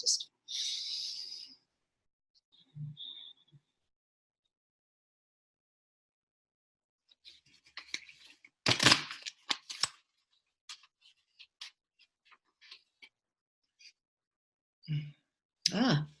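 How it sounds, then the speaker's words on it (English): A short papery riffle of cards being shuffled near the start, then scattered light taps and rustles with a louder clatter partway through. "I'll shuffle the cards, I'll pull one and I'll do it."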